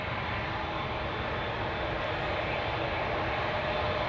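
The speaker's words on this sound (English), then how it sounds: "Dreamliner to Johannesburg, KLM flight 591 with in its wake a small puny Embraer." A KLM Boeing 787 Dreamliner bound for Johannesburg departs from Amsterdam Schiphol with an Embraer behind it, giving a steady, broad jet roar that holds even and unbroken throughout.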